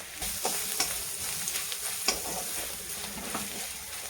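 Ginger garlic paste with a half spoon of turmeric sautés in a pan for aloo paratha filling, a close continuous sizzle punctuated by scattered clicks and scrapes of a spoon stirring.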